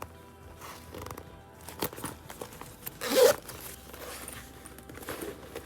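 A zipper on an interior pocket of a wipe-clean vinyl bag is pulled, a short rasping zip amid quiet handling and rustling, close and fairly soft.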